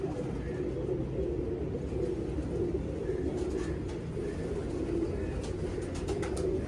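A pet pigeon coos in low, repeated rolling notes, close and steady throughout, with faint background noise and no talking over it.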